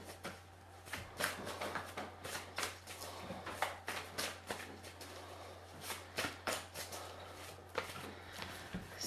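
Playing cards shuffled by hand in a quiet indoor room, a run of soft, irregular riffling bursts and rustles at close range with no voices.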